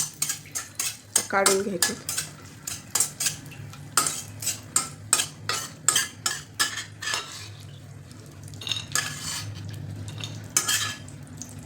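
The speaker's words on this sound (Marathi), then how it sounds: "आपल्याला ड्रायफ्रूट्स आपल्याला थोडेसे भाजून घ्यायचे, हलके" A spoon scrapes and clinks steadily against a pan as dry fruits are stirred and roasted in hot ghee, the sharp metallic strokes falling in a quick rhythm over a faint low sizzle, with brief speech near the start.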